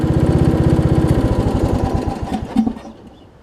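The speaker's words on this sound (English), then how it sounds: "We have a good running mower here." A Weed Eater AYP riding mower engine runs with a steady, throbbing chug close by, then slows and sputters down near the end with a brief clunk before fading out.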